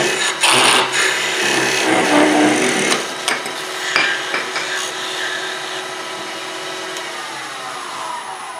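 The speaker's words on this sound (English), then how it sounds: "I'm just going to part it all the way off and let it go where it wants to go." A wood lathe parts off a mortar and pestle blank with a continuous loud, whirring, rasping cut, busier in the first three seconds and then steadier and smoother, with no talking.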